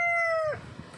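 A rooster crows among chickens, a loud, close, drawn-out tonal call that cuts off abruptly after half a second, leaving low farmyard rustle and murmuring.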